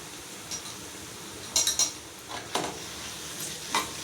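A spoon stirs onions with ginger garlic paste in a pan, giving a few scattered scrapes and clinks over a faint, steady sauté hiss. The sounds are quiet and close, with no talking.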